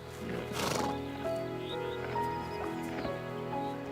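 Wild Exmoor ponies in Kielder Forest: one loud, close neigh rises early, followed by quieter snorts and nickers over soft clip-clopping hooves outdoors.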